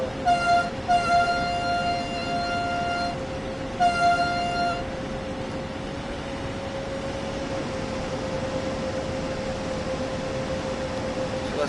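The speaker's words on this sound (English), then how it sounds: "Let's have a little bit of horn action, shall we?" A train horn sounds in a Dresden rush-hour train simulator game on the Meißen branch line: two loud blasts, a longer one and then a short one, over a steady running rumble.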